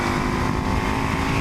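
A 1993 Yamaha Virago 250 cruiser motorcycle engine runs at a steady, loud drone heard up close, with no change in pitch or rhythm across the short stretch and no voices.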